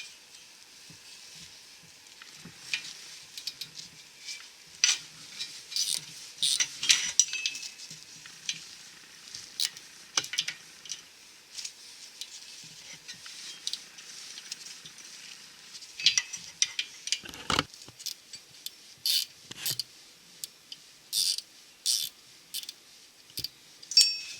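A socket wrench with an 8 mm socket works on the emergency brake retainer clip of a GMC Sierra rear end, making quiet, irregular metallic clicks and ratcheting ticks through a long stretch, with a louder clank partway through.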